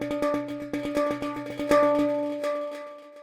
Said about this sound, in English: if I was to play 32 notes with multisamples, it would sound something like this